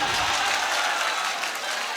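Crowd applause from a mushaira audience in India, a steady wash of clapping over two seconds that fades slightly toward the end.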